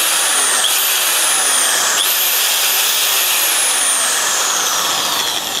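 A Hukan HK-ID750 electric drill with a brushed motor whirs loudly and close for several seconds. Its speed dips and climbs again twice, with no talking.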